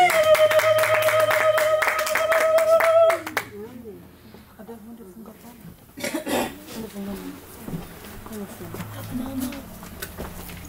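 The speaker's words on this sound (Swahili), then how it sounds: "Tushangilie kwa makofi" A church congregation claps to welcome the preacher. Sharp, rapid applause comes over a sustained tonal instrument, then a voice speaks with a brief burst of further clapping later.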